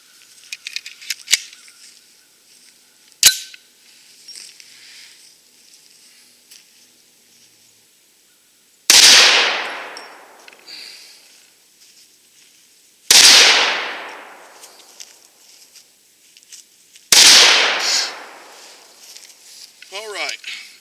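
A Desert Eagle handgun fires three Magnum Research 350-grain jacketed soft-point rounds, each a loud, sharp blast with a ringing decay, spaced roughly four seconds apart after a few quiet handling clicks.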